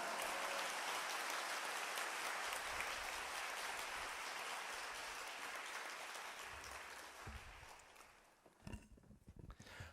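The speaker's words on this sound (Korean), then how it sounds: "할렐루야로 함께 영광의 박수 올려드립니다" A congregation at a Friday prayer meeting in a Korean church claps in a long, steady round of applause that tapers off near the end, leaving a few scattered sounds.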